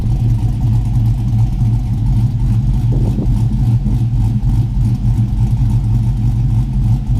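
LS V8 engine of a Chevrolet Tahoe running with newly installed headers, a loud, close, steady idle with a deep throbbing rumble and a slight lift in revs partway through, with no talking.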